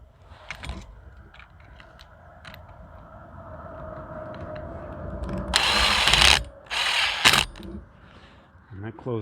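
Umbrella mechanism being closed during a repair, with creaking and scraping bursts, a few sharp clicks and two loud rustling rushes toward the end, close to the microphone, plus faint voice sounds.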